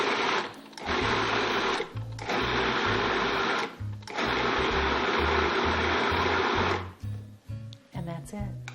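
A blender whirs loudly, mixing crustless quiche ingredients in steady bursts that cut out briefly several times before slowing and stopping near the end.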